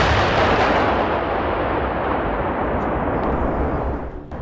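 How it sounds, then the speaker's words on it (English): A huge, close blast as a tank hits a mine in wartime combat, a sustained roaring rumble that fills the whole clip and slowly decays without any voices. "Suddenly, the first tank hits a mine, causing a large explosion."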